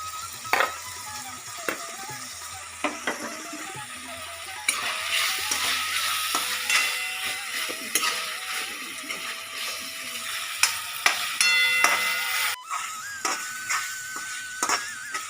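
Boiled, vinegar-soaked chicken mince sizzles and fries steadily in a pan, with a spatula scraping and stirring throughout, close and continuous.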